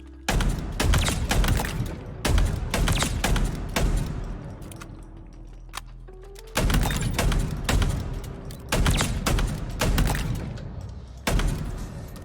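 Weapon fire in Halo Infinite, loud repeated bursts of sharp shots separated by short pauses and a longer quiet gap in the middle.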